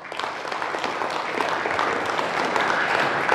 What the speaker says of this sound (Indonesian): Sebelumnya aplaus dulu untuk Novita Dewi